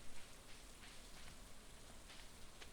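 Gentle rain in Stardew Valley Expanded, a very faint continuous patter and hiss with soft intermittent drops, quiet and steady with nobody talking.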